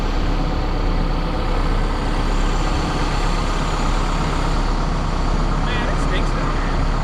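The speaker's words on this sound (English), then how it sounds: "We got truck 2 here." A heavy truck idles at sewage waste ponds, a steady, loud low rumble with constant engine noise close by throughout.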